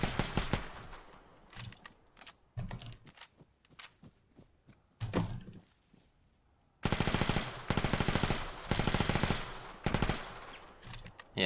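Rapid bursts of gunfire from a zombie shooter game, sharp clustered shots in the first half giving way to loud sustained automatic volleys near the end.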